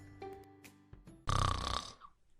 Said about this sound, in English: Is your spouse's snoring becoming an issue?